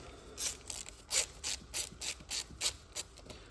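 Ratchet wrench clicking in quick repeated bursts, about a dozen clicks, while loosening a starter motor bolt on a 2019 Yamaha MT125 motorcycle; close and fairly clear with no talking.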